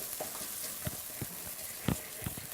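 Tomato paste cooks in a pan with a low, steady sizzle and a few soft clicks from stirring, one brief louder scrape near the end, no voices.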